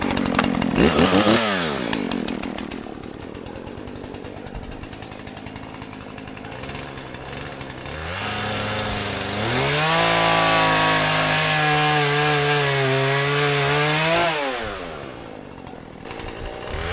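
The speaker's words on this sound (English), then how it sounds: "mark it, and then chainsaw them off." A chainsaw starts with a few pulls, idles, then revs up loudly and steadily as it cuts through pine logs, dropping back to idle at the end.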